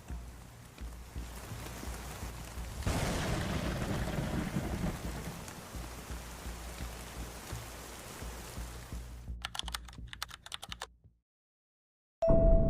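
Steady rain with rumbling thunder falls for most of the stretch, loud and close, then breaks into choppy bursts and a brief silence before resuming.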